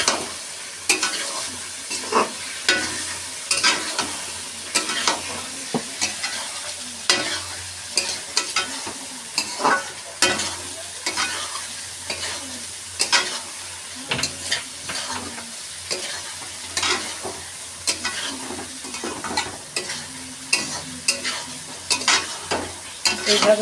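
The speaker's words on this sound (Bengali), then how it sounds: "এটাকে এবারে কষাতে থাকবে।" Chicken stir-fried with a spoonful of cumin and chilli paste, a steady sizzle broken by frequent sharp scrapes and clinks of a spatula against the pan, close and continuous with no talking.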